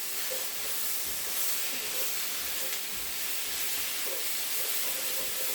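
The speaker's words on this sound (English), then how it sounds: "Frying off that chicken." Chicken fries in a pan with a continuous close sizzle and hiss, steady throughout with faint clinks and no talk.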